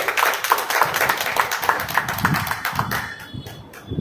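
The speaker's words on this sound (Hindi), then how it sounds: "सब ताली बजा करके जो है हमारे संचालक श्री विनोद भाई का स्वागत करें।" An audience at a public gathering claps together to welcome the host, a dense steady patter of many hands that carries on throughout and thins out slightly toward the end.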